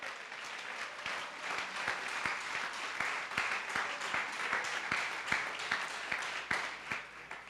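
A church congregation at a Pentecostal worship service applauds, a dense, steady wash of clapping with a faint rhythmic pulse running through it for several seconds.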